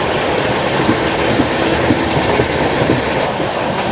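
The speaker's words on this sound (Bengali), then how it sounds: "ট্রেন একদম নিজের গতিতে চলছে।" A train runs along the tracks on a foggy early morning, a steady loud rumbling roar with faint rhythmic clicks of the wheels underneath and no talking.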